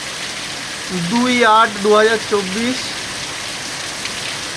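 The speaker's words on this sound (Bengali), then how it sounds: "বনগাঁতে প্রচণ্ড বৃষ্টি হচ্ছে।" Heavy downpour in Bangaon in August, a steady broadband hiss of pouring rain throughout, with a person speaking over it in the middle.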